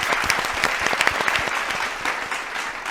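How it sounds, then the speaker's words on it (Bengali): A studio audience on a farming quiz show breaks into steady, dense applause that carries on for a few seconds, with many hands clapping close together and no talk on top. "জোরে হাততালি একবার"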